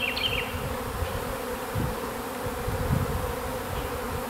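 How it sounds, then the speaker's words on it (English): A spring swarm of honeybees outdoors, a dense steady buzzing drone from many insects that holds for several seconds with no voices. "Looks like this is our first spring swarm."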